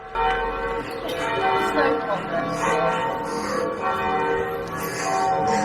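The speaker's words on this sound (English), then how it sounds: "It's persistent, the bell ringing." A church bell rings persistently in a Kent village, a clear, ringing tone struck repeatedly at moderate distance with a sustained hum between strikes, and a person speaks briefly.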